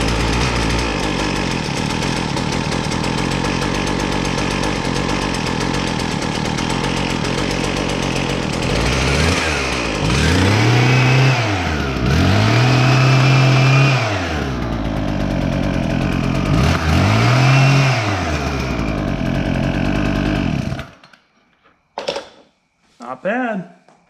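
Husqvarna 122HD60 hedge trimmer's small two-stroke engine, fitted with a replacement carburetor, runs loud and close, rising and falling through several revs before cutting off, followed by brief quiet handling noises.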